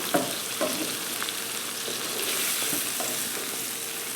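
Tuna scramble frying in a pan over good heat while being stirred and firmed up, a steady close sizzle with brief scraping stirs near the start, moderately quiet, with no talking.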